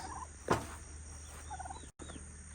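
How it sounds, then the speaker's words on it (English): A tom turkey gobbles once, loud and close, followed by softer clucking calls from a small farm flock against a steady low hum. "Okay, turkeys."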